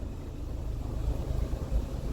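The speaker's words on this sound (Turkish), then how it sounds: "Rölantisini de çekeyim" A Renault Megane 1 engine idles in a repair setting: a steady, low, rumbling hum with a faint, even pulse, close by and constant throughout, with no talking.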